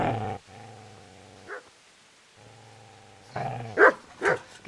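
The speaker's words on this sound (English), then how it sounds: "Get away, you mutt!" Dog in Kingdom Come: Deliverance growling low and steady in two long stretches, then breaking into a few loud, sharp barks near the end; no talking.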